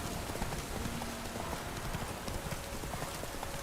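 Horse hooves clip-clop steadily in The Witcher 3 video game, a continuous rhythmic trotting that stays close and even throughout.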